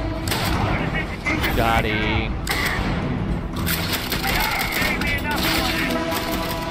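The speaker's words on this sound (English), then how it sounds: "Full auto. Kind of pistol." Full-auto pistol fire from the Starfield video game rattles in dense, loud bursts over a busy mix of explosions and mechanical effects, while a voice speaks briefly.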